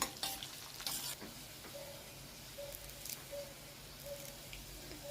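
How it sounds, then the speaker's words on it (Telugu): Garlic, green chillies and curry leaves fry in a pan with a steady, soft sizzle, broken by brief stirring scrapes and light clinks of a utensil; close and fairly quiet throughout. "మూడు మిరపకాయలు కూడా వేసుకున్నాను అలాగే కొంచెం కరివేపాకు కూడా వేసుకొని బాగా ఫ్రై చేసుకోవాలండి"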